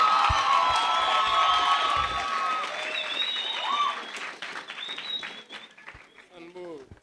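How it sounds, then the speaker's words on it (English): Audience at a youth jazz festival stage clapping and cheering loudly, with whoops and shouts, then the applause thins out and fades over a few seconds. "ladies and gentlemen, make some noise for Langa Mavuso"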